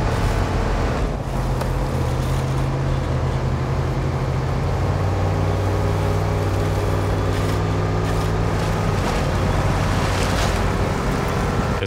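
A SnowRunner truck rolls through shallow water in Scandinavia, a steady loud engine drone with sloshing and splashing underneath, sustained and close throughout.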